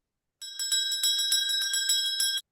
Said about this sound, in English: We'll go ahead and do the bell.